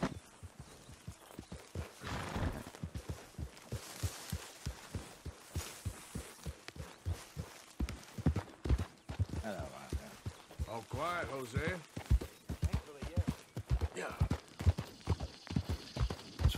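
Horse hooves clop in a steady rhythmic gait in Red Dead Redemption 2, with people talking over them and a brief whinny-like sound partway through.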